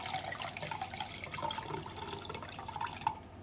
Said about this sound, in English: to pour it through a sieve